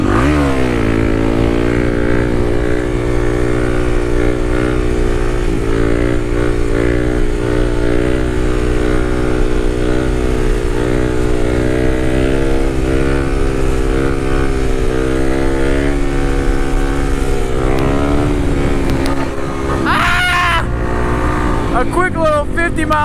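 Kawasaki KLX300 dirt bike engine held at a loud, steady high rev through a wheelie at around 50 mph, with the pitch wavering slightly and a brief throttle change near the end.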